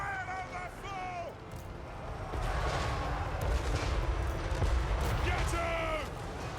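Ranged units firing guns in a Total War: Warhammer 3 battle, heavy booming volleys and rumbling blasts under overlapping voiced unit commands.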